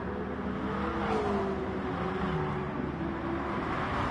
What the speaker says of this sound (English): We hear, that is the sound of that F40.